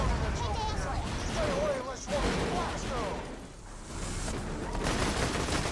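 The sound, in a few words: gunfire in Borderlands 2 video game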